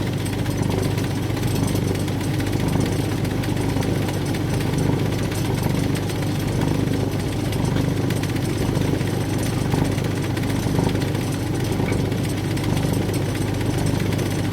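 Continuous loud whirring and scraping as a wood lathe turns a pen blank under a 19mm continental gouge, a steady, dense machine roar with no pauses and no talking.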